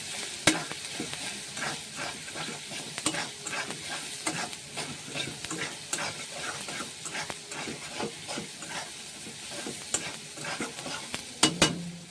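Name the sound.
tomato spice masala frying and being stirred in pan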